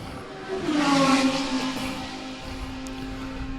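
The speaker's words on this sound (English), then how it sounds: "that's the engine" A GT race car engine at a circuit race event, a passing engine note that swells and then fades to a steady distant drone, with no voices.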